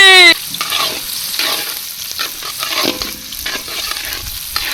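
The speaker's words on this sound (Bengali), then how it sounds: "এই যে এখন দিয়ে দিব এলাচ, দারচিনি, লং, তেজপাতা একসাথে। দিয়ে দিব পেঁয়াজ কুচি।" Cardamom, cinnamon, cloves, bay leaves and chopped onion dropped into hot oil for jackfruit seed pulao: a loud initial burst, then a busy sizzle under repeated scraping stirs.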